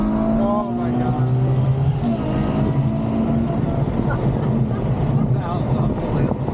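A Ferrari GTC4Lusso fitted with an aftermarket exhaust roars and revs loudly and continuously, its engine note rising and falling, with heavy wind buffeting over the microphone and faint voices in the background.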